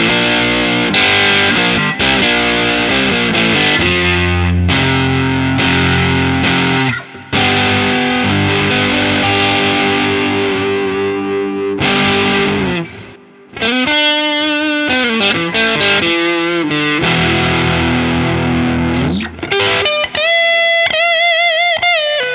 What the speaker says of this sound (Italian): torniamo a sentire i suoni distorti, e vi faccio sentire come suona con i vari pick up